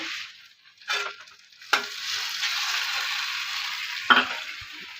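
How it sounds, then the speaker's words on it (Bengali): Onions frying in a pan for a Bengali home-cooked dish, a steady close sizzle with a few sharp stirring scrapes and clatters, no talking. "পেঁয়াজ ভাজ পেঁয়াজটা এবার ভাজবো এটাকে খানিক্ষণ"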